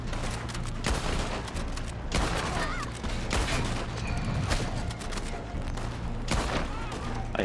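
Rapid bursts of gunfire from guns in Red Dead Redemption 2 online co-op, sharp cracks recurring every second or so over a busy, loud game mix with no talking.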